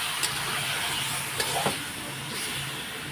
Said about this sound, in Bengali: এখন আমি একটু কষিয়ে নেব আলুর তরকারি কষা কষা আলুর তরকারি হবে